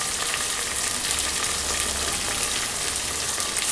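Chopped tomatoes with curry leaves and a little salt fry in a pan for pulao, making a loud, steady, close sizzle that hisses on without pause and without any voices.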